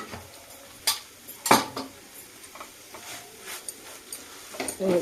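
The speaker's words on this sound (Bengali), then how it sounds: "এক চামচ ঘি দিয়ে দিলাম এটাকে ভালো করে নেড়ে সেড়ে নেব" Vermicelli is stirred with ghee in a pan, a utensil clinking sharply against the metal a few times amid soft scraping and shuffling, close and fairly quiet.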